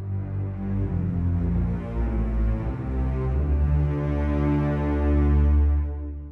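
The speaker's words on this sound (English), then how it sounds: "So as you can see, I've got the cellos and the basses" Orchestral cellos and basses from the Symphonics library play sustained legato lines an octave apart. The tone is a deep, rich string drone that swells gently through the passage, alone with no talking.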